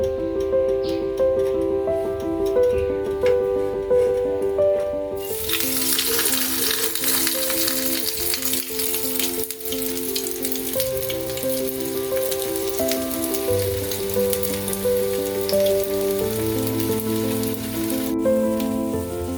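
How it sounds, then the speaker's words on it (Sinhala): Egg cutlet, a crispy egg dish, frying in hot coconut oil in a pan. It makes a steady, loud sizzle and crackle that carries on alone, with a few sharper spits along the way. "අපි හදාගත්තු බිත්තර එක පරිස්සමට තෙල් එකට දාගමු."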